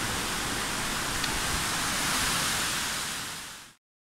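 A winter waterfall with ice crystals on a Himalayan trek to Panch Pokhari, Nepal, giving a steady broad rushing roar that holds evenly before cutting off abruptly.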